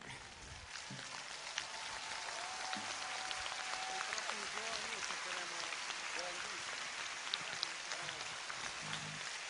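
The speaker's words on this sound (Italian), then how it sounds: "per fare un applauso ai ragazzi che sono" Steady applause from a crowd at a political rally, a dense patter of many hands clapping continuously at moderate volume, with faint voices underneath.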